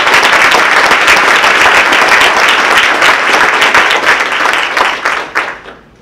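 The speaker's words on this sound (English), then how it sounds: "That deserves a huge round of applause." Loud, dense applause from a large crowd at a Democratic gathering honoring members of Congress, sustained for several seconds before thinning out and fading at the end, with no talking over it.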